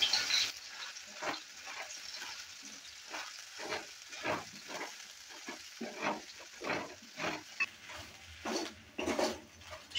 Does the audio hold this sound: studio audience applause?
no